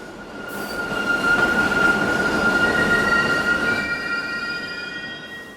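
A subway train rolls past with a loud, steady rumble and high metallic wheel squeal that rises, holds and then slowly fades, with no voices.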